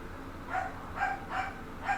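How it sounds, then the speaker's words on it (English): A dog barks four times indoors in a steady rhythm, fairly faint and somewhat distant, over a quiet room background. "And the dog is barking."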